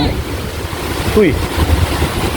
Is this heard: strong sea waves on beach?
yes